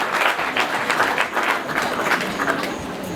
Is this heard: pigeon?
no